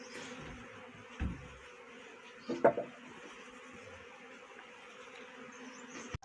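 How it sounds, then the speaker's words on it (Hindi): Honeybees buzz faintly around a hive box, a soft, steady drone with a few nearby thumps and knocks rising briefly above the hum. "वो मधुमक्खी मैंने वहाँ से निकाली थी, और ये अभी इसमें बैठनी शुरू कर दी है"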